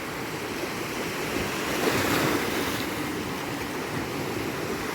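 Big waves wash onto a Black Sea beach at Zolotyi Bereh in Odesa, making a steady, loud roar of surf with wind noise mixed in and no voices.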